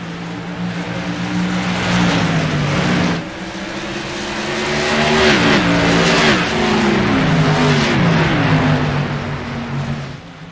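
Modified race cars roar around Nashville Fairgrounds Speedway, several engines layered and revving up and down as they pass close by, loud and continuous throughout.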